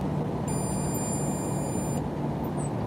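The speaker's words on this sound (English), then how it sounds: "That beeping noise." A truck's faulty collision avoidance system beeps falsely, a steady high-pitched electronic tone for about a second and a half over a constant low rumble of the engine.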